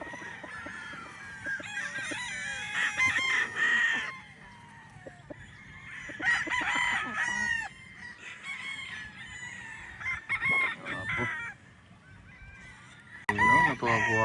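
Banded local roosters crow repeatedly on a farm, several loud cock-a-doodle-doo calls in separate bursts with brief pauses, mixed with some clucking and nearby bird noise; no talking.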